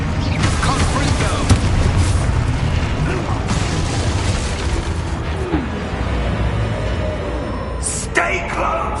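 A Confringo fire spell goes off in the Hogwarts Legacy video game with a loud, dense blast of rumbling, crackling energy that lasts the whole stretch, with mechanical clanks and a sharp burst near the end.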